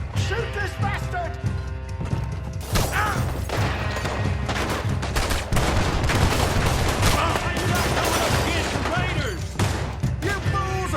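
Heavy gunfire in Red Dead Redemption 2, rapid repeated shots and booming blasts packed densely throughout, mixed with shouting voices and loud in-game action.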